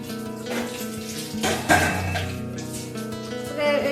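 Tap water runs steadily into a sink while dishes are washed at home, with faint clinks of crockery in the background.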